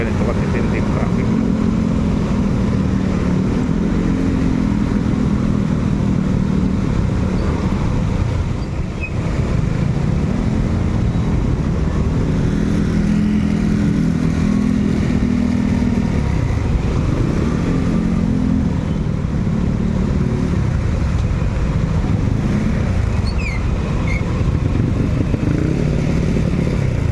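Dense engine rumble of heavy road traffic on EDSA in Manila, with motorcycle engines droning steadily close by, loud and continuous throughout.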